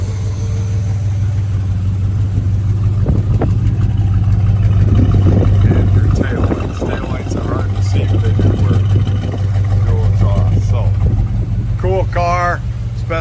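A 1969 Chevrolet Chevelle SS engine idles steadily with a low, even throb close by, while a person talks over it and a brief higher-pitched squeal appears near the end.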